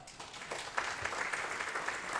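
At a church Advent mission evening, a congregation gives a round of applause, a continuous, moderately distant patter of many hands clapping that holds steady without a break.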